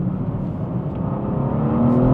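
Engine of a manual BMW M2 (G87) pulling hard around a corner, a loud, steady low-frequency drone that builds gradually with a faint rising whine near the end, heard alone without talk.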